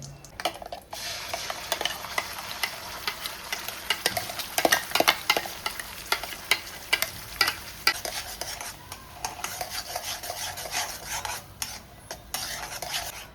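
Ground masala fries in oil for an egg masala, a continuous close sizzle broken by constant rhythmic scraping and clinking of a spoon stirring against the metal pan, with no one speaking.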